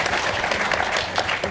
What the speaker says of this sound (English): Sorry, I just interrupted your applause.